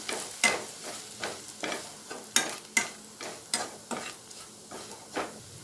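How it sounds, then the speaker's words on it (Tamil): Spoon stirring turmeric, chilli and coriander powder into softened onions frying in a pan for crab masala: a steady series of distinct scraping strokes over a soft sizzle, close and fairly quiet, no voices. "இதில் மஞ்சத்தூள் சேர்த்துக்கோங்க, மிளகாய்த்தூள், மல்லித்தூள் சேர்த்துட்டு கலந்துக்கலாம்."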